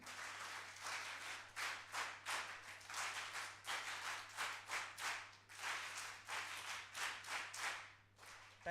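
At a youth parliament event in Hyderabad, a crowd claps in a rhythmic pattern, with bursts of claps separated by short pauses that repeat steadily, somewhat distant.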